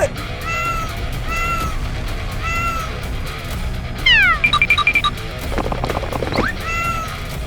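Giant cartoon cat on a farm meowing in several drawn-out, rising calls, loud and close, followed by sliding cartoon sound effects and a rapid clattering burst near the end.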